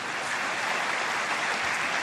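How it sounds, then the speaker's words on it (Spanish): A church congregation breaks into applause in praise of God, a continuous wash of many hands clapping at a moderate distance, steady throughout with no voices over it. "Alguien tiene que aplaudir por ese Dios."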